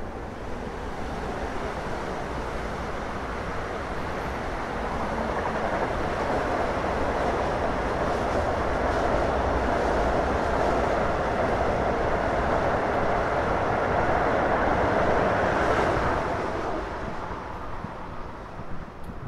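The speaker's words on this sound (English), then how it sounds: "That's one of the Long Island Railroad's electric trains." A Long Island Rail Road electric commuter train rumbles past nearby in Forest Hills, Queens, its broad rushing roar swelling for several seconds and then fading away as it recedes.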